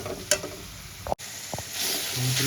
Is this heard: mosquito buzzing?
no